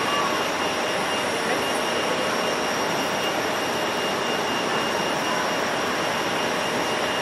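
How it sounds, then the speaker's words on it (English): A Swiss Airbus A330 lined up on runway 16 at Zurich Airport, its jet engines producing a loud, steady broadband roar with a faint high whine, continuous throughout. "an A330 of Swiss has lined up on runway 16 and will depart in the next minutes"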